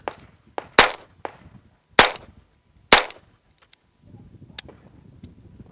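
Chiappa rimfire pistol fired with a loose grip, giving three or four sharp, loud cracks at uneven intervals with small clicks between them, then a short stretch of quiet handling noise after the gun malfunctions.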